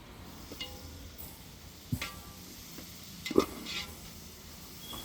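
A handful each of coriander and mint stirred into a frying pot for a 5 kg chicken biryani in a hotel kitchen: a soft, steady low sizzle with a couple of sharp clanks of the spoon against the pot.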